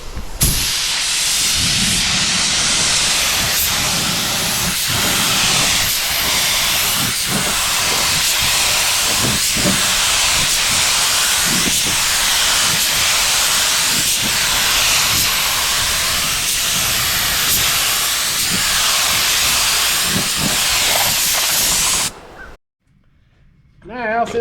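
A spray gun lays a coat of 2K clear over Rust-Oleum Turbo Sunburst Yellow and gold pearl paint outdoors. A loud, continuous airy hiss runs for over twenty seconds, with faint pulses as the gun passes, then cuts off abruptly.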